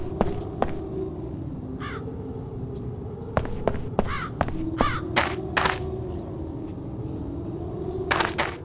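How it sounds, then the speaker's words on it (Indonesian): Several crow caws ring out at intervals over a steady ambient hum, interspersed with sharp clicks and taps, in the church of the video game Bully. "Yang suara aneh itu hanyalah suara burung gagak"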